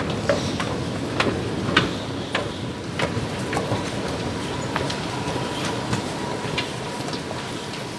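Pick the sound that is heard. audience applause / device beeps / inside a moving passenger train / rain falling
inside a moving passenger train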